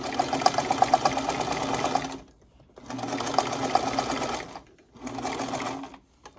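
A sewing machine stitches a fabric face mask with elastic, its fast needle clatter running in three close bursts separated by short pauses.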